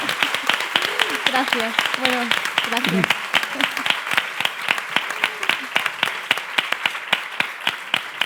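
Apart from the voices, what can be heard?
audience applause at a panel on gender violence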